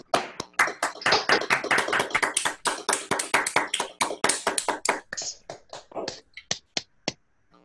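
Scattered applause from a small group on an online lecture call, claps dense and overlapping at first, then thinning out to a few isolated claps before stopping.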